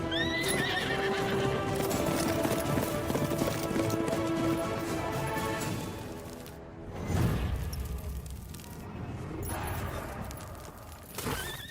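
A horse's hooves clip-clop busily while it whinnies and neighs repeatedly, loud and close, amid a dramatic Hindi film scene, the clatter easing into scuffs and thuds near the end.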